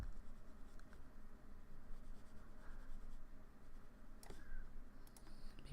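Pen tapping small dots onto a writing surface while working a math problem, faint scattered ticks under a steady background hiss with no talk.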